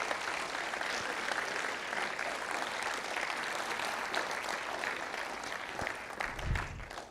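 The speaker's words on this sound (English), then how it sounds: "How about a round of applause for our seniors?" Audience at a high school awards ceremony clapping for the seniors, a steady, fairly distant round of applause that fills the room and tapers slightly toward the end.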